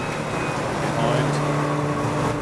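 Twenty-five-year-old Volkswagen Golf TDI race cars compete at Snetterton circuit, their engines droning steadily and fairly loud beneath a commentator speaking throughout.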